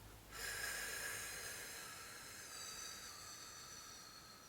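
A long, soft exhale empties the lungs during a belly-breathing exercise. It is a faint, steady hissy rush of breath that starts abruptly and slowly fades over several seconds, with no talking.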